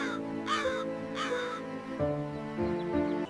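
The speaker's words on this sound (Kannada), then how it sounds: "ಒಂದು ದಿನ ಅವಳು ಗಾಯಗೊಂಡ ಕಾಗೆಯನ್ನು ಕಂಡಳು." A crow caws in harsh, rasping calls, two loud bursts followed by a rougher run of strained croaks, close and clear with nothing else behind it.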